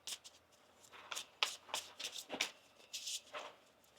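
Tarot cards shuffled close up in a quiet room, a string of soft riffling flicks and slaps in uneven bursts, faint overall.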